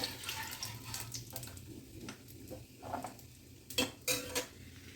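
Fried cashews are moved from a pan onto a plate, with soft scraping and light metallic clinks of a spoon against cookware that grow sharper and louder toward the end.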